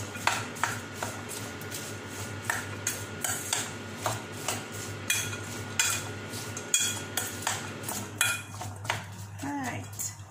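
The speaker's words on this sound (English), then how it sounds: "and curry powder and salt and right, we're going to mix all together." Clinking of a spoon and bowl as green beans are tossed together with chili powder, curry powder and salt, with repeated light scraping clatters at an irregular rhythm, close by, with no talking over it.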